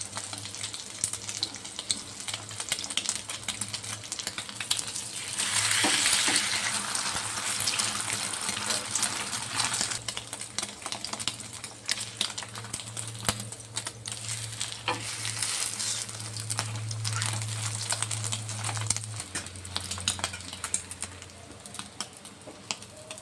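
Egg parathas fry in white oil in a pan, giving a continuous close crackling sizzle with scattered pops and a low steady hum underneath, swelling briefly louder partway through.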